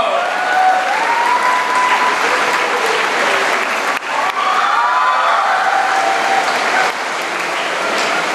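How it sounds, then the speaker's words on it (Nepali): Sustained, dense applause from a worship-concert audience in Pokhara, honouring a church pastor, rolls on steadily for over eight seconds, with faint tonal voices or music drifting beneath the clapping. "कृपया उहाँलाई पनि जोरदार तालीका साथ हामी सम्मान गर्दछौँ।"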